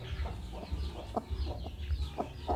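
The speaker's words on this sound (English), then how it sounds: "A broody hen will make these sounds when it's brooding." A broody hen clucks softly and steadily, low repeated murmuring clucks close by with no other sounds.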